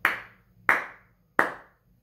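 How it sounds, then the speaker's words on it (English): Three sharp hand claps, evenly spaced about two-thirds of a second apart, ring out close and clear in a quiet room to trigger an early The Clapper sound-activated switch, each one decaying quickly with no talking. "Let's clap."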